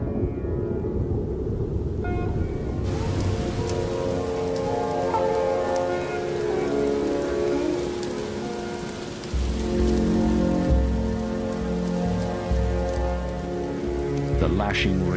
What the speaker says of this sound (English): The lashing rain will test the king cobra's nest.